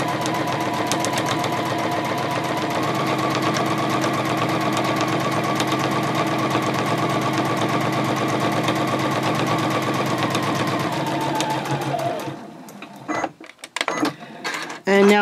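A sewing machine stitches quilting lines across a fabric eyeglass case, running steadily and loudly for about twelve seconds before stopping, followed by a few soft handling clicks.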